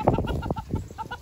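Silkie chickens cluck in short, uneven bursts nearby, a few soft calls overlapping with little background noise.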